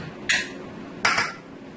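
A spoon knocks twice against a bowl while pineapple jam is mixed into pound cake batter: two short, bright clinks about a second apart over a quiet kitchen background.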